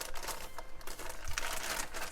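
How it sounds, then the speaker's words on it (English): Plastic wrap crinkling and tearing as it is peeled off a newly unboxed Elgato Wave:3 microphone, a close, steady rustle lasting about two seconds with no talking. "I unwrap this."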